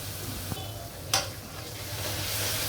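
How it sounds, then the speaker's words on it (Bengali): Onion fries in a pan, a soft, steady sizzle with a couple of sharp clinks or stirring knocks, close by and without talk. "পেঁয়াজটা আমি একটু ভাজবো।"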